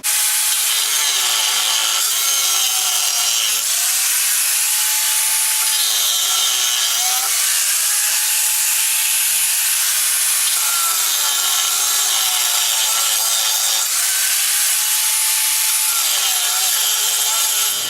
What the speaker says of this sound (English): So let's start grinding.